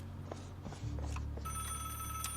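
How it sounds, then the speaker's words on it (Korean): In a horror video game, a telephone bell starts ringing partway through and keeps on in a loud, steady electronic trill after a few soft knocks and footsteps. "어, 전화 왔다."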